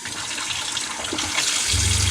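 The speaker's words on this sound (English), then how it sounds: "now as you see, we're actually running water into our" Tap water runs steadily into a sink in a DIY camper van plumbing setup, a loud, close, continuous rushing splash with a low hum joining near the end.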